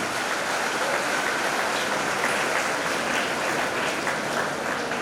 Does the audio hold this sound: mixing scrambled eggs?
no